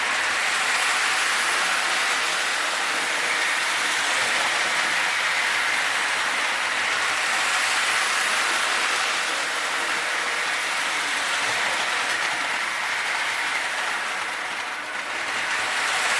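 Continuous whirring rattle of a Marx toy train running along its O-27 three-rail track, steady and fairly loud throughout with no talking.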